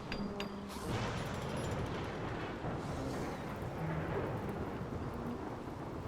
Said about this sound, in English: I'm gonna wait until the Rainy Thunderstorm is done to fight these mechs